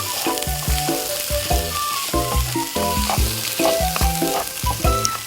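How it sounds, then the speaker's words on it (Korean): Sliced onion stir-fried in a hot pan for kimchi fry, giving a steady close sizzle broken by rhythmic scraping and tossing strokes of the utensil, with no voices. "양파를 넣고 한 번 더 같이 볶아주세요"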